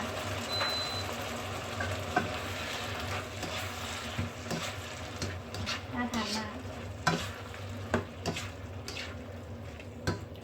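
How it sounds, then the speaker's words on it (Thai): Shrimp stir-fried with Thai chili paste sizzles and bubbles hard in a pan, a continuous frying hiss broken by clinks and scrapes of stirring, close and steady. "ตอนนี้เดือดโวยพุ่งมากเลยค่ะ"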